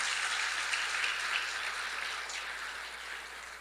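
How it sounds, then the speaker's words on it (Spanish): A church congregation claps together during a worship service, a steady, diffuse patter of many hands that fades slightly toward the end, with no voices over it. "Denle un aplauso al Señor en esta hora."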